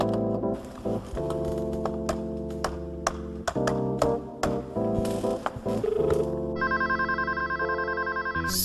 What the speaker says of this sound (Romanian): Sună telefonul la domn primar.